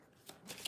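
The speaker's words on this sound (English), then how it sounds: "Let's get 3 shuffles here." Tarot cards being shuffled, two or three quick soft riffling bursts in close succession, faint and close-up, with no talking.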